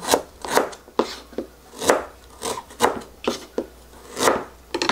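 Fresh ginger being cut with a knife on a board, about ten crisp separate chops in an uneven rhythm, close and clear, with no voices.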